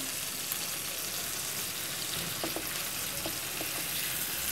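Ground shrimp sizzling in a hot frying pan, a steady crackling hiss with a few sharper pops and light stirring scrapes, close and even throughout.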